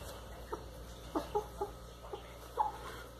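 Hens and chicks on a poultry farm cluck in short, soft, scattered calls, about half a dozen spread over three seconds, moderately near with quiet background and no talking.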